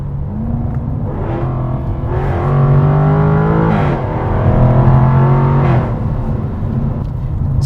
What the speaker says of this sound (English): we have a supercharged V8 up front that makes a glorious sound